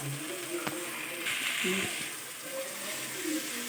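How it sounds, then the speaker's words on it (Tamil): Ginger and garam masala sautéing in a pan for spicy crab gravy, a steady soft sizzle and hiss with faint stirring scrapes, heard under a voice talking. "இப்போ இஞ்சி கரம் மசாலா எல்லாம் போட்டோம் இல்லையா, அதெல்லாம் கொஞ்சம் பச்சை வாசம் போகிற வரைக்கும் நல்லா வதக்கலாம்."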